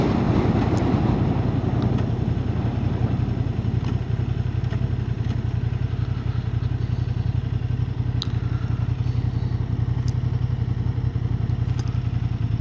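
A Honda Hornet 750 motorcycle being ridden, its engine a steady, loud, continuous drone with road and wind rumble throughout and no gaps.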